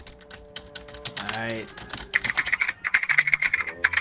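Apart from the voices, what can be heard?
typing on a computer keyboard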